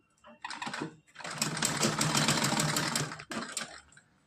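A sewing machine stitches fabric in short bursts, a brief whir then a longer steady run and a final short burst, close and clear with no talking.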